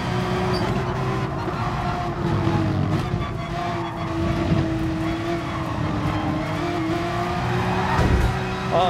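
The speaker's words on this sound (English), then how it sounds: "He spun on the exit on the curb." A race car in Gran Turismo Sport spinning out on a curb at a corner exit, with a sustained engine whine that wavers in pitch and tire noise, plus a short rougher burst near the end.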